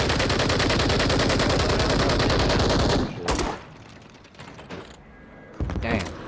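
Rapid automatic gunfire in Call of Duty Warzone Resurgence, a loud, sustained burst of fast shots for about three seconds, followed by scattered quieter shots and mechanical clicks.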